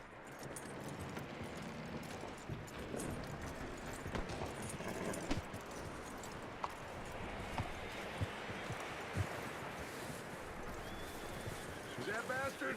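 Horse hooves clip-clopping steadily along in Red Dead Redemption 2, a continuous rhythmic patter of hoofbeats with a few sharper knocks, heard amid busy game ambience.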